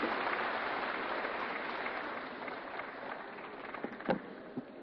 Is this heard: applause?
yes